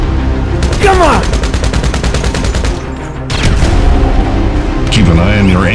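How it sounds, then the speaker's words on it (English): Rapid gunfire bursts in the GTA Online video game, loud and sustained with repeated shots, mixed with game sound effects and other noise throughout. "Shoot down the target with one shot."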